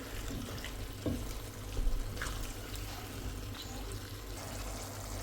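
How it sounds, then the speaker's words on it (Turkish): Water is poured into a pot of meat and potato stew, making a steady, continuous splashing rush that runs for the whole stretch at moderate loudness, with no voices. "Bu şekilde şimdi üzerine su ilave edeceğim."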